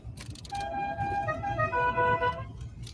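A car horn honks in short toots, a few quick taps and then longer sustained blasts, heard close and fairly loud on the way to get a Christmas tree.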